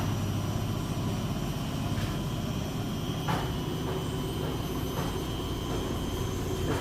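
A Beko or Hoover washing machine spins its drum at 2,200 RPM, a loud, steady roaring whine with a few faint knocks, continuous throughout.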